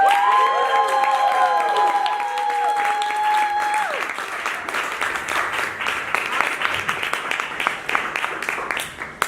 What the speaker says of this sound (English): Can I give a round of applause for my round table?